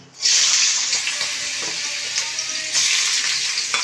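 Potatoes frying in hot oil in a wok, sizzling loudly and steadily after a brief quiet start, with faint stirring beneath.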